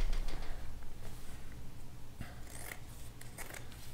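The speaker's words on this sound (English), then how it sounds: "next I'm gonna cut out the hem" Scissors cutting through the hem of denim jeans, with close snipping and crunching at the fabric, louder and more frequent near the end, and no voices.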